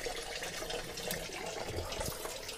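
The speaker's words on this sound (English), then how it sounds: "And this one's still draining quite a bit of water in here." Water drains steadily from a Mercruiser boat engine being winterized, a continuous close trickling and splashing pour with no talk over it.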